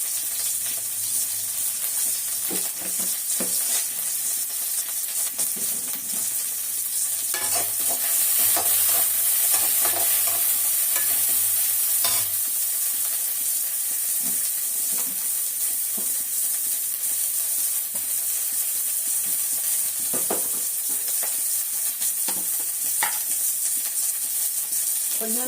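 Curry leaves and pepper sizzle and fry in a pan for a steady stretch, with occasional stirring scrapes and clinks over the hiss.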